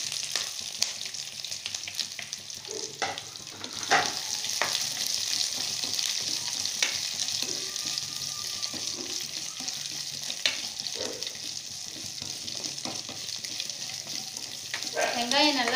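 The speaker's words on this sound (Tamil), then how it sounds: "வெங்காயம் நல்லா வணங்கணும்." Onions frying with green chillies and curry leaves in a pan for a radish and egg stir-fry, a continuous close sizzle with occasional clinks and scrapes of stirring.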